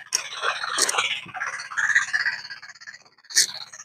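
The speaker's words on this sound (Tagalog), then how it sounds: "Palakang pala yan." A frog calls at night in a rice field in Mindoro, giving repeated raspy croaks in irregular bursts, close and fairly loud, with no talking.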